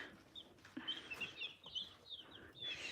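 Baby chicks, many of them hatched at home, peep continuously inside a freshly cleaned coop in the morning, their high, thin calls overlapping in a busy chorus at close range.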